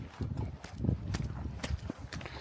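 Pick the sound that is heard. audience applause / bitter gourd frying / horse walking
horse walking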